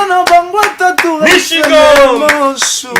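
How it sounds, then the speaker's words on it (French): An audience claps its hands in quick bursts, loud and close, over a voice speaking or chanting with a strong pitch. "On applaudit."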